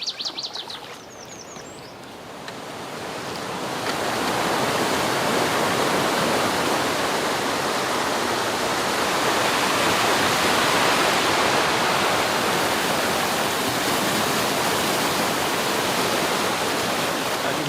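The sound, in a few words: small waterfall on Brook River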